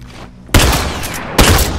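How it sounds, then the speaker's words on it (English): Two loud bursts of rifle gunfire in The Last of Us Remastered, each a sharp, broadband crack followed by a rolling, reverberant tail, the second arriving about a second after the first. "He's got a rifle!"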